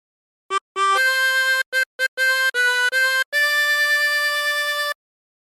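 Chromatic harmonica playing a phrase of Home on the Range, a series of clear, separate blown and drawn notes with short gaps, ending on a long held tone, close and solo.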